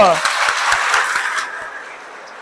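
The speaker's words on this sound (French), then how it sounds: "Si elle vous a plu, applaudissez pour vous-même" An audience applauding after an agricultural conference, a short burst of clapping that starts under a speaker's voice and fades out within about two seconds.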